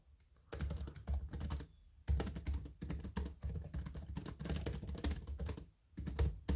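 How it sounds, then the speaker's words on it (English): Bursts of rapid typing on the keyboard of a 14-inch Lenovo S330 Chromebook, close and clear, with short pauses between runs of keystrokes. "I was just trying to type the quick brown fox jumps over the lazy dog."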